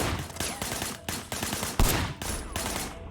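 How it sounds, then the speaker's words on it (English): Rapid gunfire from the video game Sleeping Dogs rings out in loud, repeated bursts, with short gaps between volleys and no voices. "I want you to put some bullets in a few things."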